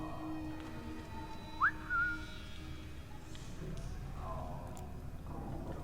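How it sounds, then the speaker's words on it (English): A character whistles in Assassin's Creed III Remastered, a short rising whistle note followed by a brief second tone, heard over quiet game ambience. "Didn't mean to whistle."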